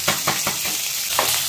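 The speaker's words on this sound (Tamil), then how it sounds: "ஒரு 1/2 inch இஞ்சி, 10 பல்லு பூண்டு, இதெல்லாம் சேர்த்து நல்ல பச்சை வாசனை போற அளவுக்கு இதை வதக்கிக்கணும்." Ginger and garlic sauté in a pan with a steady, close sizzle, while a spoon scrapes and stirs in a few rhythmic strokes.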